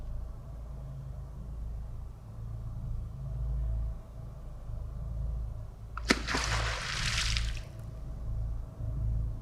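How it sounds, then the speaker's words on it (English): A sudden splash in outdoor water at night, heard near an island river shore, as if a rock were thrown or a big fish broke the surface; a sharp burst lasting about a second and a half over a steady low rumble, with no talk. "Who's throwing rocks into the water?"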